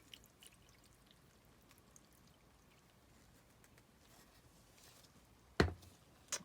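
Coffee poured over fabric for dyeing: a short, loud splashing pour lands near the end, followed by a brief second splash, over a quiet room hush.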